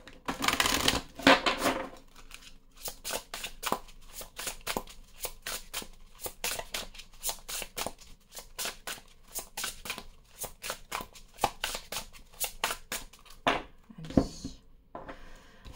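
An oracle card deck is shuffled repeatedly during a Capricorn tarot-style reading, making a steady run of quick, papery riffling clicks and flutters that lasts throughout, close and fairly quiet, with no talking.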